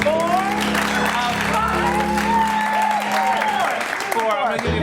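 An audience at an improv comedy shootout claps, cheers and whoops to vote for a game, sustained and lively crowd noise heard while a host talks over it.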